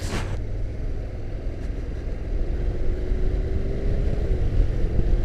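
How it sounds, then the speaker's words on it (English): Engine of a Honda NC750X DCT motorcycle on a test ride, a steady road drone with wind rush and a rising rev tone toward the end, sustained and fairly loud throughout. "It blips. This bike's engine received 500 more revs."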